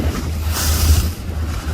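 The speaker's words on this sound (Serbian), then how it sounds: "more je uzburkano, ali za sada čamac uspeva da izdrži nalete vetra i talasa" Rough, choppy sea with a strong southerly jugo wind beats against a rowing boat off Dubrovnik, giving loud, steady wind rumble and wash of waves close to the microphone, with no pause.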